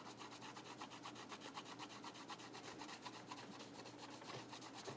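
Faint, rapid back-and-forth scratching of a colored pencil etching into paper, a steady rhythmic rasp of strokes close up with no talking.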